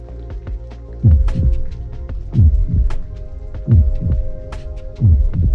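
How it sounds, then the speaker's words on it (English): A heartbeat sound effect from a Minecraft deck builder game throbs over a steady low hum in regular double thumps, about one beat each second, close and loud with no talking. "And you notice how much faster that heartbeat is?"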